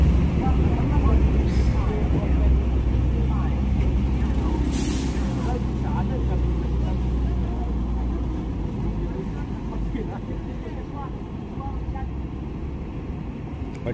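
An ALS intercity bus with air brakes idles and rumbles while boarding a ferry at Merak port, with a loud steady engine drone, sharp hissing bursts of air, and people talking nearby.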